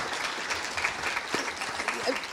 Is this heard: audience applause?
yes